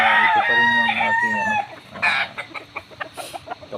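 Chickens nearby: a loud rooster crows at the start, then rapid, rhythmic clucking and short calls follow in a busy close-up burst, with no voices heard.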